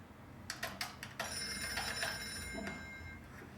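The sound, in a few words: phone ringing while calling on Banana Phone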